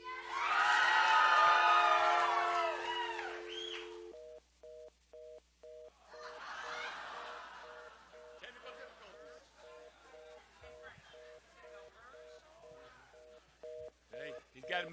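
A telephone busy signal on an unanswered call, steady evenly spaced beeps repeating for about ten seconds after a loud cheering crowd, with faint voices murmuring underneath.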